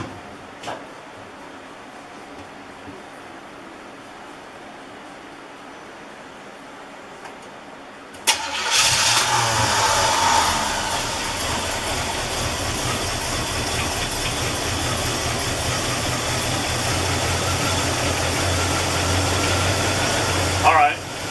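1984 Chevrolet El Camino Conquista with a carburetor, after a fuel leak: quiet at first, then the engine cranks and catches abruptly into a loud, steady idle that runs on, close by, with a voice talking over it.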